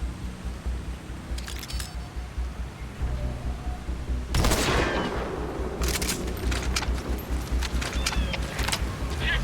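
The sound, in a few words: gunfire from video game Metal Gear Solid V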